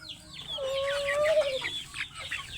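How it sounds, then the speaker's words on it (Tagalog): Chickens clucking close by, with one drawn-out rising call over a softer background of clucks and rustle, and no talk over it. "Daming manok malalambing."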